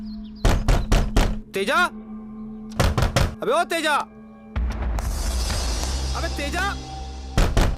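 Heavy fists pound on a door in a Hindi horror film scene, in rapid loud bursts of thuds, while someone repeatedly shouts a name between the knocks.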